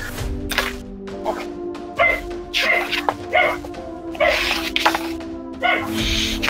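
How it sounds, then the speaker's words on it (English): A dog barks repeatedly indoors in reaction to barking chihuahuas next door, short yips and bow-wows in uneven bursts over a steady background hum. "Cooper has noticed the barking chihuahuas next door, and he's not very happy with their noise."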